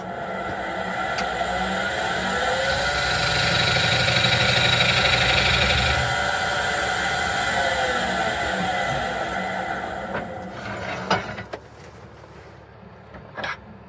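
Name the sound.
wood lathe spinning a bowl blank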